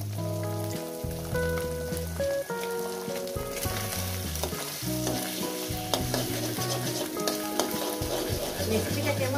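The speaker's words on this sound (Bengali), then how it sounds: "আমি এই তেলের মধ্যে দিয়ে দেবো ডিম" An egg fries in oil with vegetables, producing a loud, continuous close-up sizzle like rain on a surface, with frequent stirring scrapes and spatula knocks throughout.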